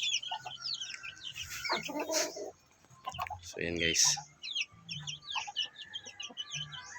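Chickens clucking and chirping nearby at moderate volume, with a rooster-like call midway and a person speaking briefly over the birds.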